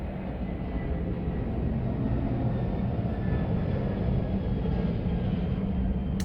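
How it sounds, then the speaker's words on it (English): A steady, broad low roar of an airplane passing overhead outdoors, continuous and moderately loud across the whole stretch, with no voices. "Can you guys hear the airplane? There's another one coming."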